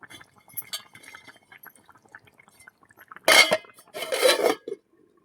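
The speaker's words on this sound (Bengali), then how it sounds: "ঢাকনা দিয়ে দেবো" A metal lid clanks onto a cooking pot of pomfret fish with ridge gourd and potato, giving two loud, close clattering bursts after a stretch of soft kitchen clinks.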